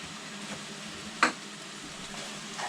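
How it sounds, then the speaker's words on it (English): Curry powder hits a hot pan and gives a soft, steady sizzle while it is stirred in, quiet and close, with one sharp clink of a utensil partway through. "Now before that gets too hot, I'm going to quickly whack all this curry powder in"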